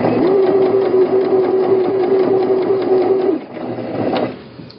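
A sewing machine runs a steady stitch along the edge of tote bag fabric, a loud mechanical whir with a rapid regular ticking that runs for about three seconds, then slows and stops.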